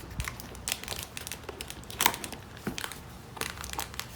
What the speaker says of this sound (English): Start with this box right over here. So as I said, just straight scissors,